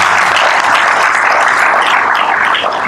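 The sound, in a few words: audience applause for the British Institute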